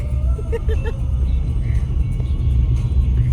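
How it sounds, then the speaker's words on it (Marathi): Steady low road rumble and engine drone from inside a car on a busy highway between Pune and Mumbai, a continuous muffled hum with faint music and voices in the cabin. "ट्रॅफिक बघा, सगळे लोक कुठे कुठे चाललेत."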